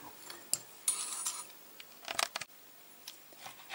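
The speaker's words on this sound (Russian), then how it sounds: "Хочу ее теперь разрезать." Scraping and clinking of a knife or cutter cutting a hot thin pizza on a plate, a few short bursts of cutting and small metallic taps, quiet and close.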